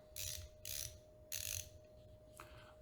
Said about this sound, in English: It's a great little ratcheting screwdriver.